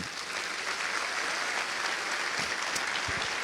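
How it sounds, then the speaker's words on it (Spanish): A church congregation applauds the Lord after a sermon, giving a continuous, even wash of clapping at moderate level from start to finish, with no speaking over it. "Un aplauso al Señor"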